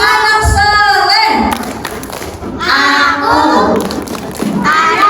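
A group of children perform the Indonesian 'tepuk anak soleh' clapping chant at a Ramadan mosque gathering, with rhythmic claps and thumps mixed under loud chanting voices and an adult's speech.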